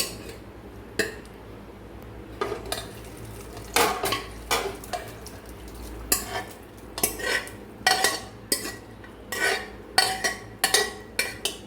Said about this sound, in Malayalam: അതിനകത്തോട്ട് ഈ ബീഫ് തട്ടിയിടുവാണ്.